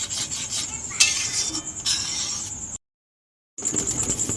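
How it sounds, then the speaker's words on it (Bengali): Palm pulp mixed in ghee in a wok, close raspy scraping and rubbing strokes with a few metallic clinks, cut by a short stretch of silence before the stirring resumes. "আমরা কড়াইতে 1 চামচ ঘি দিয়ে দিলাম। আমরা ঘিটা মাখিয়ে নিচ্ছি।"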